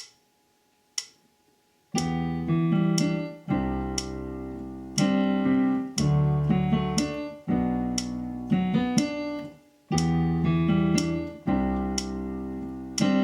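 Piano keyboard chords from a song played slowly at 60 bpm, each chord struck and left to ring for about two seconds before the next, with a few isolated plucks at the start.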